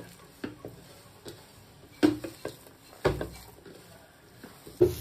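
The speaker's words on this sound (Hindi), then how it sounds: "अब इसको मैं अच्छी तरह मिक्स करूँगी" Soft wet patting and squishing as mashed sweet potato mixture is kneaded by hand in a bowl, quiet and close with a few sharper taps against the dish.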